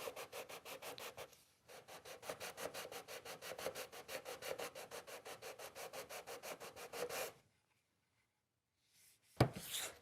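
Sandpaper rubs a compound-radius Stratocaster fretboard in quick, even back-and-forth strokes for several seconds, then stops, followed by a brief clunk near the end.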